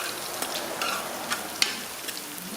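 Scallion and pimento sautéing in a pan for callaloo, a steady soft sizzle close by with faint crackles and pops, no voices.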